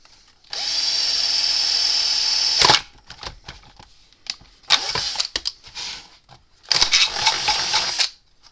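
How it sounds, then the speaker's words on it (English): A power drill bores into a Gallagher M800 electric fence charger to fit an output transformer, whirring in one long steady burst, followed by several short on-off pulses and a final sustained run, close and loud. "So now we're going to drill a hole right here."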